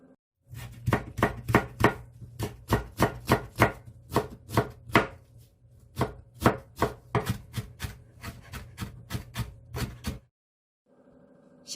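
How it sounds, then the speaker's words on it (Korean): Rapid knife chopping of julienned carrots on a cutting board, dozens of quick sharp taps in bursts, close and clear, ending in a brief pause then quiet rustle. "색깔 예쁜 당근도 채 썰어서 잘게 다져주겠습니다"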